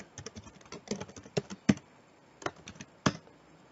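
Typing numbers into an Excel spreadsheet on a computer keyboard, with soft, irregular key taps and a few sharper presses, heard up close against quiet room tone.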